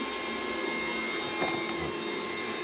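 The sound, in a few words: 3D printer printing a part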